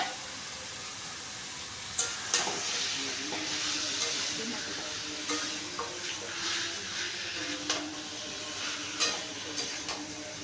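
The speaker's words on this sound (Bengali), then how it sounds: "মশলার সাথে মাংসটাকে ভাজতে হবে" Marinated chicken, seasoned with lemon and salt, frying with spices in a pot for chicken dum biryani, giving a steady soft hiss and sizzle broken by occasional sharp clinks and scrapes of stirring.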